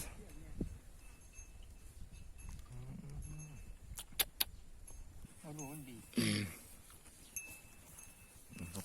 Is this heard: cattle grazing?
yes